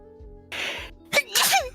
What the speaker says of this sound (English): Bless your sacred sneeze.